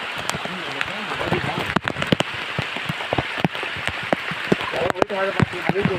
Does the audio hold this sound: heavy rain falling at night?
yes